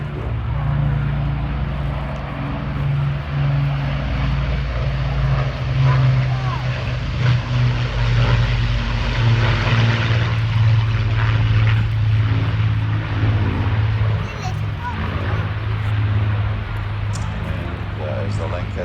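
Avro Lancaster bomber flying at an airshow, its four piston engines giving a loud, sustained propeller drone with steady low harmonics throughout, while a commentator talks over it.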